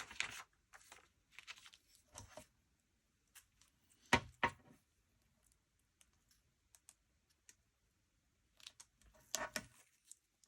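Scissors cut paper while a memory planner is being made, in short, separate snips and crisp crunching bursts with quiet pauses between them.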